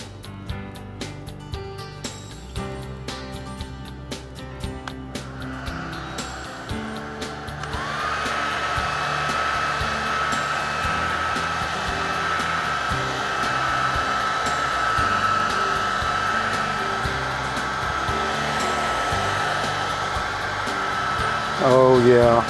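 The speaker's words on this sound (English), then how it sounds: "hit it with the air dryer so that we can dry the color, dry the paint." A steady, loud blower hum of a hand-held air dryer drying paint on a model of New York City's Hudson, running throughout, with faint background music underneath.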